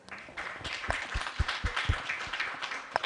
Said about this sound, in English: I would like to ask you to give a round of applause.